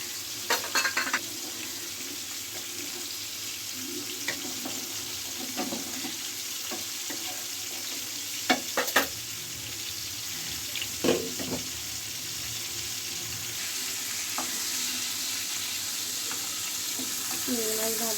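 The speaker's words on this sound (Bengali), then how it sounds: "চিংড়ি মাছ ভাজা শেষ" Prawns frying in a pan give a steady close sizzle, punctuated by stirring scrapes and utensil taps, with a brief loud spatter near the middle and louder bubbling toward the end.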